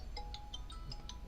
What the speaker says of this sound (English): somebody's calling me on my phone